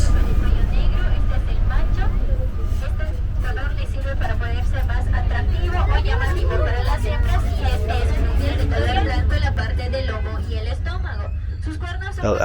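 City bus ride in Mérida, with a steady low engine drone and road rumble filling the cabin under a continuous murmur of passengers talking.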